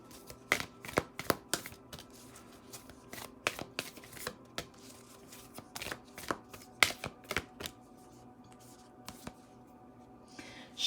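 Moonology oracle cards being shuffled close up in a quiet room, a run of quick crisp riffles and flicks that thin out and fade toward the end.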